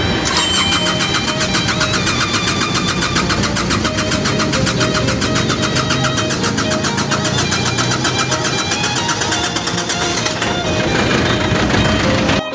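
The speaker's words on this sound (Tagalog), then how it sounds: "Ayaw mandar mga bossing. Andar lang siya pag inalalaya ng fuel pump or hand primer." A T-King truck engine that runs only with help from the fuel pump or hand primer cranks continuously and loudly up close, the starter churning in a rapid, steady rhythm for about twelve seconds without catching.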